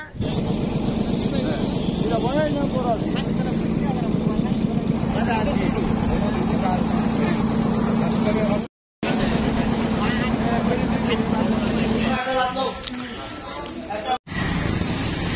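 A trawler carrying motorbikes across the Jadukata river in Sunamganj, its engine a steady loud drone throughout with a brief cut, while people talk nearby.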